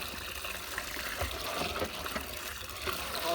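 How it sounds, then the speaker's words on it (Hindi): Water pours into a large batch of semolina, about 8 kg with 12 kg of water, for wedding-style suji halwa, giving a steady gushing, trickling sound of moderate loudness. "सब 12 किलो इसके पानी शामिल कर रहे हैं"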